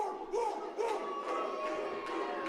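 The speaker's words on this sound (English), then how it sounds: "Crowd firmly behind Mad Dog McDowell" A wrestling crowd at a 3X Wrestling show cheers and shouts continuously, with distant chanting voices rising and falling as a dense, steady roar.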